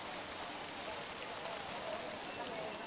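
Heavy monsoon rain pours down in Kerala during outdoor rituals for ancestors, a dense, constant hiss of water striking surfaces with no break or change in intensity.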